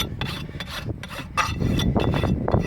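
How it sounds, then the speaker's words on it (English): A farrier's rasp works the toe of a horse's hoof during laminitis treatment, smoothing the nails as well, making rhythmic close scraping strokes in quick repeated passes, alone without talk. "Now I can start balancing up or backing up that toe just a little bit, smoothing out those nails in the same process."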